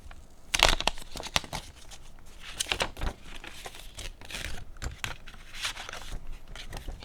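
Protective paper wrapping crinkles and tears as it is pulled off a new Realme GT 7 Pro phone, giving close, irregular rustling with a few sharper crackles and no talk.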